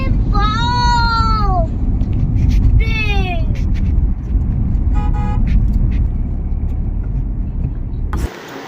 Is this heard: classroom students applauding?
no